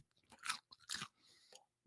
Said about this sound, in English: got some of that good crunch in there